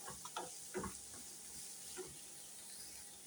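Onion sizzles in hot oil for pizza topping, a quiet steady crackle with a few soft stirring clicks and scrapes near the start.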